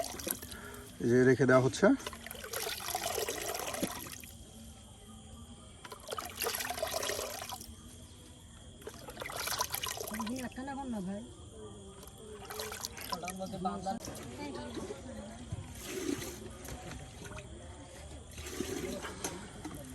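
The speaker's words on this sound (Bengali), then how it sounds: "এই যে দেখুন শাকগুলো কিন্তু একদম ধৌত করে করে আপনার" Water splashes and trickles in bursts while leafy greens are rinsed and handled, the sound fairly close, with a person talking over much of it.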